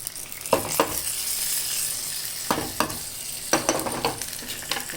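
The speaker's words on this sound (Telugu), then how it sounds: "ఈ పెరుగులో ఈ తాలింపు పోపు వేసేసుకుంటామండి" Hot tempering spooned into yogurt gives a steady fizzing sizzle with a few sharp clinks and stirring scrapes, close by and with no talk.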